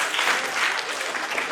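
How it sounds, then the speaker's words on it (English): Brief, dense applause from a school quiz audience at the InspiriaQ 2015 semifinals, steady clapping from many hands lasting under two seconds. "Whoever wants to clap, you can."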